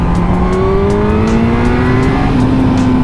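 A Suzuki GSX-R 1000 motorcycle accelerating hard on the Autobahn, its engine note climbing steadily under loud, constant wind roar, heard from the rider's position without any talk.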